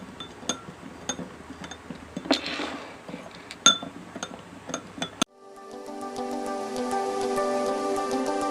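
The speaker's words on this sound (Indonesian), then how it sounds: "Lalu aduk garam tersebut hingga merata." Salt is stirred into water in a glass, a spoon clinking against the glass again and again in irregular taps, fairly close and clear; partway through, the sound abruptly switches to steady background music.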